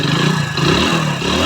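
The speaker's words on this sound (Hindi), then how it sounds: "किस तरीके से इंजन का साउंड आया" A Hero HF Deluxe BS4 motorcycle engine runs loud and close, a steady throbbing idle with a mechanical clatter and no pauses over a short stretch.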